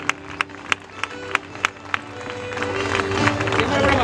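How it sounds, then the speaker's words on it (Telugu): At a combined worship and stone-laying gathering on an outdoor ground, a few sharp claps ring out, then a crowd's applause builds into steady, dense clapping that grows louder toward the end. "అందరు గట్టి చప్పట్లు కొట్టాలి, గట్టిగా, ఎనర్జీ తగ్గిపోవద్దు."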